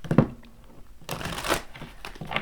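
Tarot cards are shuffled by hand in two quick riffling bursts, a short papery flutter followed by a longer, louder ripple and a final brief shuffle, close and without talk.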